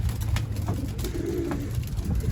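Pigeons coo close by in a loft, a low, soft rolling coo repeated over a steady murmur of other birds.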